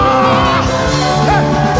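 A church congregation shouts and whoops for joy during a worship medley, a loud, dense wash of raised voices filling the space with no pause.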